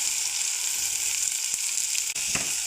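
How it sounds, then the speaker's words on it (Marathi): Onion frying in oil with cumin seeds, a close, continuous sizzle with a couple of brief crackles or utensil taps near the end, fairly loud and with no speech. "थोडंसं तेल टाकू, जिरे टाकू, त्याच्यामध्ये कांदा टाकून देऊ,"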